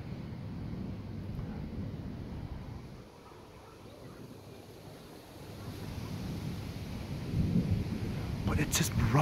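Low thunder rumbles on and off through a minor August thunderstorm in Red Deer, Alberta, a deep distant roll under steady wind and rain noise that swells louder toward the end.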